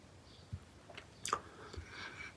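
Marukawa bubble gum candy from Japan is chewed close to the mic, giving a few soft, moist clicks and squishy bites scattered over a couple of seconds against near silence.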